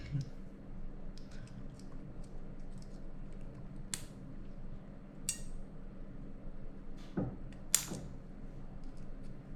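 Small metallic clicks and a creak as a tappet plate spring is fitted into an airsoft AEG gearbox for an Mk18 build, a few sparse, close taps over a quiet room background.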